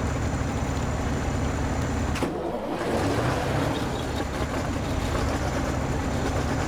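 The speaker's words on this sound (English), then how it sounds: "you just heard the engine there cut out again" Truck engine in the SnowRunner video game, working a farm field, drones steadily at low pitch, briefly dropping out around the two-second mark before the rumble returns at full strength, with no talk.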